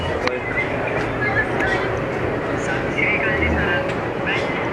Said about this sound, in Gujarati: હવે અત્યારે આપણે ટ્રેનમાં બેસી ગયા છીએ અને ટ્રેન ચાલુ થઈ ગઈ છે